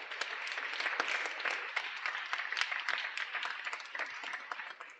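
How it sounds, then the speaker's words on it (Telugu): A church congregation at a Catholic adoration service claps loudly together, a dense, continuous burst of applause that keeps going for several seconds before easing at the end. "గట్టిగా చప్పట్లు కొట్టు."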